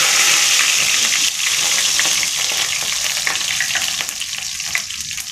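Curry leaves and fennel seeds sizzle and crackle in hot sesame oil while preparing a quail pepper chukka, a steady close frying hiss that eases slightly toward the end, with no voices.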